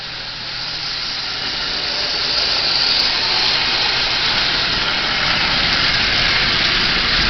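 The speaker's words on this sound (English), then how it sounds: "locomotive runs just absolutely splendidly. So a 6-volt 897 made out of parts." A Marx 897 toy train locomotive refitted with a 6-volt motor runs pulling eight Lionel cars, making a steady whirring hiss and rumble that holds constant throughout without pause.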